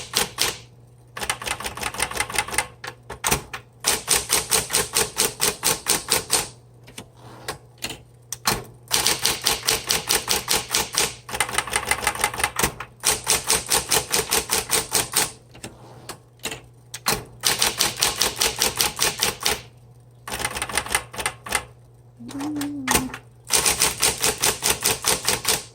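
Keys of a 1960s Smith Corona Coronet electric typewriter being struck in rapid bursts, sharp close clacks in quick runs broken by brief pauses, with the electric motor humming steadily underneath throughout.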